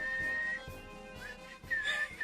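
Someone whistles a short, wavering tune in a few bursts, fairly quiet and close, with faint background noise.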